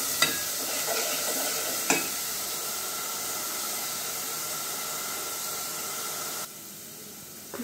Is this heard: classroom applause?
no